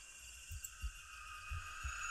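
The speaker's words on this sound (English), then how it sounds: "Heartbeats." Dull low thumps of a heartbeat inside the dark horror game DreadOut, two paired beats repeating at a slow steady pace over a constant eerie high-pitched drone, with no talking.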